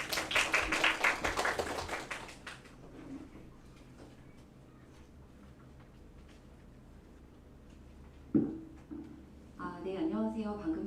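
An audience at an academic conference gives brief, soft applause that fades within a couple of seconds, followed by a quiet room and then a speaker starting to talk.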